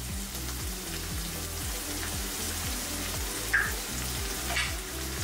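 Onions and curry leaves sizzle steadily in hot oil in a pan for chicken kaju fry, a constant close crackle with a faint low rhythmic hum underneath and a couple of brief clinks.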